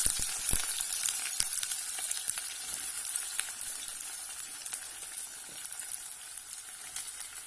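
Food sizzles and fries in hot oil in a home kitchen, giving a steady close crackle with scattered sharp pops and occasional stirring sounds.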